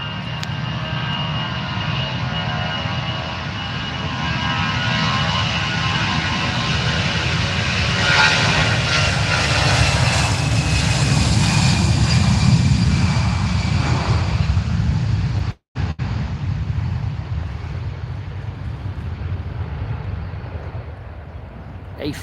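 A Lufthansa Airbus A320 jet on its takeoff roll at Manchester Airport gives a loud, sustained engine roar that builds and peaks midway, then eases as it pulls away, with a brief dropout near the end.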